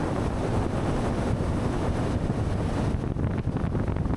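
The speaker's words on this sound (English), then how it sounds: "And going through the boat wash, stayed dry." Steady rushing wind and water noise as a Sea Ray 250 SDX outboard boat crosses another boat's wake over choppy waves, loud and continuous with no voices.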